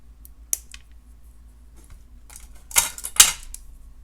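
Wire cutters snip off excess wire while beading a sparkly cluster necklace: one sharp click early on, then two louder crisp snips close together near the end, in an otherwise quiet room.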